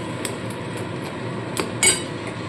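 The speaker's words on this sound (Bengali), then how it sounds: "এইবার সমানে এটাকে নাড়তে হবে, আর একদম জলটাকে শুকিয়ে ঝরঝরে করে ফেলতে হবে।" Lote fish jhuro being stirred in a pan: light clinks and scrapes of a utensil at irregular intervals over a steady sizzling hiss, with one louder clatter near the end.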